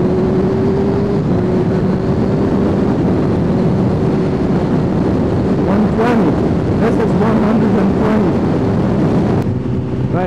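Motorcycle ridden at speed with a camera mounted on the side of an old AGV helmet, steady engine drone mixed with heavy buffeting wind noise, loud and continuous throughout.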